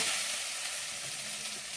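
Potatoes and taro sauté in a hot pan, giving a steady, close, even sizzle of frying with no break and no voices.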